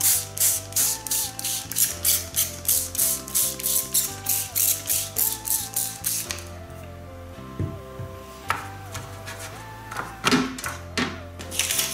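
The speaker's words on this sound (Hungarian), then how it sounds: "és ezt meglocsoljuk vízzel" A hand plant mister sprays water onto blotting paper in a homemade acrylic-paint mixing tray. Close, rapid, evenly spaced squirts run for about six seconds, followed by scattered handling and clicking noises.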